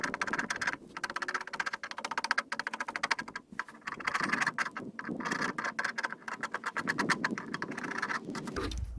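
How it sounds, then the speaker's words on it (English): Chisel chopping out lap cuts in a wooden fence gate board, a run of sharp, irregular taps and knocks close by, steady through the whole stretch with brief pauses between strikes. "take the chisel and chop them out"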